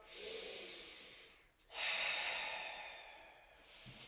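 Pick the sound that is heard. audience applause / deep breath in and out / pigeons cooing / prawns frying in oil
deep breath in and out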